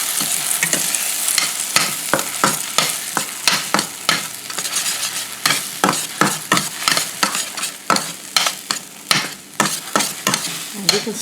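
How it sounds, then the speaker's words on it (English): Eggs, some previously frozen, being stirred in a hot pan: rhythmic scraping strokes cut through a constant sizzle, close and fairly loud, with no talking. "Start stirring it up."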